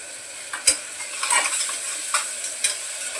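Onion, tomato, kokum and chopped coriander are sautéed in a pan, with several quick scrapes and taps of a spoon over a light, close sizzle and no speech.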